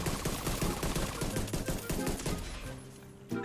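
Rapid pistol gunfire in the shooter game The Division 2, dense loud bursts of shots in quick succession that cut off near the end, with a voice talking faintly underneath.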